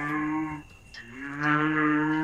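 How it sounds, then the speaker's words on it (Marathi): A cow moos loudly and close by, a long low call that breaks briefly in the middle before swelling again. "काव म्हणजे गाय."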